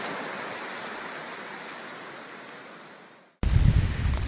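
Surf on an oil-fouled Pensacola beach on the Gulf coast, a steady close hiss of waves and wind that fades out, then cuts abruptly to a louder burst of rumbling surf and wind noise.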